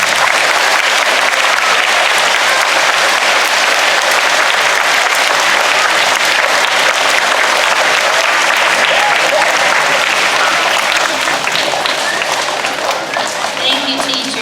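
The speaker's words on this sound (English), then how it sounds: "big round of applause." A large crowd of students at a school assembly applauds teachers on the first day of school, a dense, loud, sustained wall of clapping that holds steady and tapers slightly at the end.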